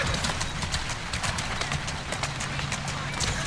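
Horse-drawn carriages in the Strand district of Assassin's Creed Syndicate, with steady, rapid hoof clip-clops on a hard street, close and continuous, under a faint murmur of city background.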